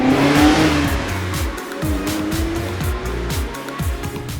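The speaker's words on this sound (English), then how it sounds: "stretching the legs of this 2-liter 4-cylinder is pretty fun too" A Mazda Miata's 2-liter four-cylinder pulls hard under acceleration, its engine note rising and holding steady through a continuous close drone with faint tire and road noise beneath.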